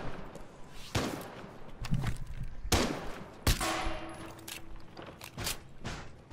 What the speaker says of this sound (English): Ooh, I like the sound of a pistol.